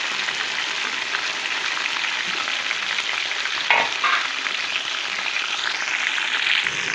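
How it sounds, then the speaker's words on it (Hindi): Chicken tikka sizzles and fries in a pan with a continuous, loud crackling hiss, a brief stir shifting the sound midway; no voices. "दस मिनट तक हमें इसे फ्राई करना है"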